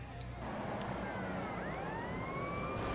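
Police car sirens wailing continuously in Grand Theft Auto Liberty City Stories, rising and falling tones layered over steady engine and street noise, loud and close throughout.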